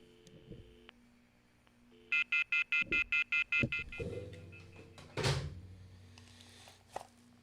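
Dial-up modem on a phone line sends a rapid run of about eight evenly spaced DTMF dialing tones, loud and clean, followed by a line hiss and a brief louder burst, with no talk.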